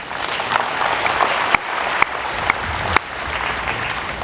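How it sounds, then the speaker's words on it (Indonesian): Applause from an audience of civil servants at an official Indonesian gathering: a dense, steady patter of many hands clapping for the whole stretch, with a few sharper single claps standing out. "Tepuk tangan untuk kita semuanya."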